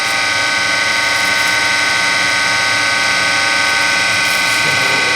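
A lathe spindle runs continuously with a loud, steady mechanical whir and gear chatter, close and unbroken throughout.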